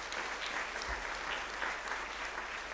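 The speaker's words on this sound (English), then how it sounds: "please give yourself a round of applause." A crowd applauding steadily at a fifth grade graduation, dense clapping throughout at moderate distance, no voices standing out.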